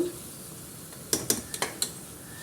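Brinjal pieces frying in a pan while being stirred, with a sizzle and a quick run of five or six scraping stirs of a utensil against the pan, close and fairly loud, with no talk.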